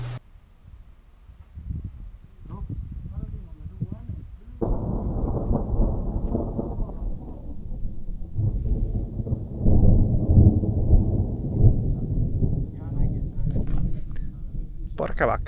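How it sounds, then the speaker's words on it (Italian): Rolling thunder from a storm over the Turkmenistan desert, a low rumble building after a few seconds into a loud, sustained roar that swells and fades, with a brief quiet lead-in. "ci sono dei tuoni incredibili"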